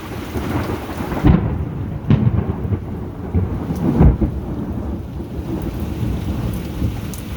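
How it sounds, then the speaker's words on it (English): Thunder rumbles through a powerful storm with hail and flooding, several deep booms rolling over steady heavy rain close by, with no voices. "You can hear the booming thunder."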